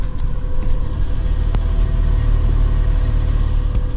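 A Nissan Pathfinder's exhaust gives a deep, steady growl, loud and close throughout with no pauses.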